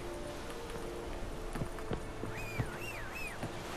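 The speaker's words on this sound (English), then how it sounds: "Come on, horsey, let's go." A horse's hooves clop on the ground in The Witcher 3 game, several distinct strikes landing at an uneven walking pace over a steady ambient background, with a high warbling tone rising and falling near the end.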